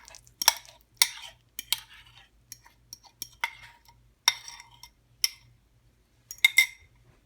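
Banana bread batter is mixed in a bowl, a series of sharp clinks and scrapes as the utensil strikes the sides in irregular strokes, close and clear against near silence, with no one talking.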